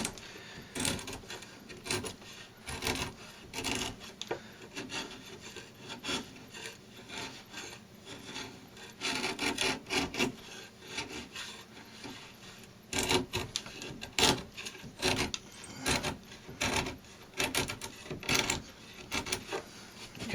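A chisel is pushed along wood veneer during a veneer repair, giving a steady series of close, dry rasping scrapes in short strokes with brief pauses between them.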